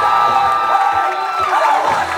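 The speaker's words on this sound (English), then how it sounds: "let's give our newlyweds a nice round of applause" Wedding reception guests cheer and whoop for the newlyweds. The crowd noise is loud and close, with overlapping shouts and some clapping.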